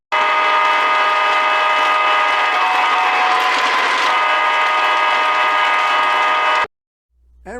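An O gauge model train hums and rattles steadily along the track for several seconds, then stops suddenly; a voice begins speaking right after.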